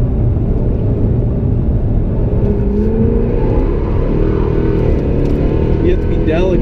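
A Jaguar F-Type R engine rumbles and whirs on a figure-eight track, a dense continuous roar with rising acceleration, while a voice talks over it.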